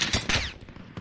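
Gunfire in Call of Duty Warzone: a few loud, close bursts of shots in the first half, then quieter scattered reports trailing off, with no talking.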